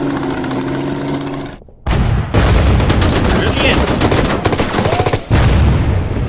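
Tank guns and machine-gun fire from a wartime strategy game, Order of Battle: Red Storm, rattling in dense continuous bursts with heavy booms, broken by one brief silent gap near the middle.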